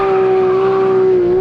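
A Porsche 911 GT3 RS and a Mercedes-AMG GT R at a standing quarter-mile drag race, one engine holding a loud, steady high-pitched howl at close range with a slight pitch sag near the end.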